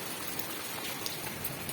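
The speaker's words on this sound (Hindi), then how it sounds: "ये देखो बारिश, क्या झमाझम बारिश हो रही है।" Heavy monsoon rain pours down steadily, a dense, loud hiss of drops drumming on surfaces with occasional sharper splashes, no voices heard.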